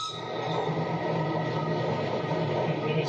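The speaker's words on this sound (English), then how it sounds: "Okay, so there is a train coming." A fast train rushes past on the tracks, a loud, steady rumbling roar that holds evenly for the whole stretch, close by and with no voices over it.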